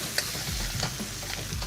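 Beef stir-fries in a very hot carbon steel wok, a loud, dense sizzle right up close with quick scraping and tossing strokes.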